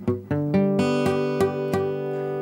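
A guitar chord strummed across all six strings, repeated about seven times in an even rhythm, each strum ringing on clearly with bright sustained tones.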